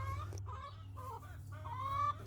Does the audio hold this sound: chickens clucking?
yes